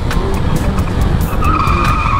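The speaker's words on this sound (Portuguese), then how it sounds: "Ele tentou frear, mas só parou quando bateu na parede." A car braking hard on a street, its tires skidding and squealing loudly and close for about two seconds just before it crashes into a wall, with no voices.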